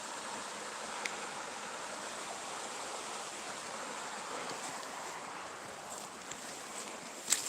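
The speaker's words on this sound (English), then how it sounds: "Am I just tripping out on weird creek noises?" Nighttime creek water flowing steadily, a soft continuous rushing wash with no breaks, fairly quiet, with a few faint clicks near the end.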